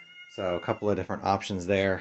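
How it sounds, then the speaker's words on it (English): A house cat meows several times in the background during a board game session, its calls repeating under someone speaking in the foreground. "You can hear my cat in the background."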